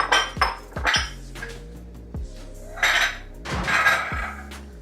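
A small kitchen bowl being handled, giving a series of sharp ceramic and metal clinks and knocks, close and fairly loud, spaced irregularly over a quiet room background.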